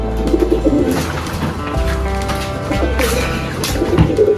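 Pigeons cooing nearby in a garden aviary in soft, repeated throaty calls over a steady background hum.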